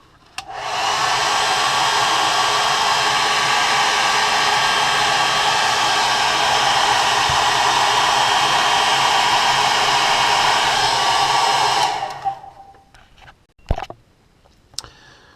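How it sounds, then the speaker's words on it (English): A hair dryer blows loudly and steadily for about eleven seconds, heat-setting paint on a crankbait fishing lure, then switches off, followed by a few faint clicks and knocks. "you have to heat set that with a dryer"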